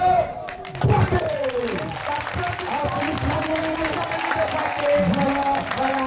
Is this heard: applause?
yes